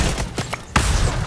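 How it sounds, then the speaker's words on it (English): Bursts of gunfire from the video game Fortnite come as a quick, close, rapid run of shots, then a short pause and another loud blast. "Oh my gosh, I'm getting shot from a different direction."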